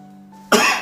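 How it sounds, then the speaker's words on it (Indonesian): A single sharp cough bursts out close to the microphone after a brief low hum, short and loud. "batuk."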